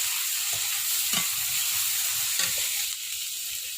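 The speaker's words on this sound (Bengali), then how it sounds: "আলুর মধ্যে আমি পেস্টটা দিয়ে দিচ্ছি।" Paste dropped into potatoes frying in a pan, giving a bright continuous hiss of sizzling oil with a few soft stirring bumps, close and steady with no voices.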